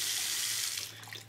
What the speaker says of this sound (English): And then you wash your hands. And this water just basically fills that reservoir.